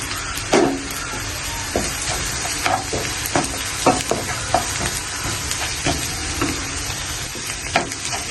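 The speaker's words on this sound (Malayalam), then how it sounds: "ഇനി ഇതിലേക്ക് ഞാൻ ഇഞ്ചി വെളുത്തുള്ളി ചതച്ചതാണ് കേട്ടോ ഇട്ട് കൊടുക്കുന്നത്" Crushed ginger and garlic with bird's eye chillies frying in a pan for a Kerala-style chicken thoran, giving a steady close sizzle with repeated stirring scrapes and clicks throughout, loud and with no voices.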